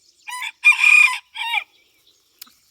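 A rooster crows once close by, a loud multi-part call with a short clucking note after it, then quiet.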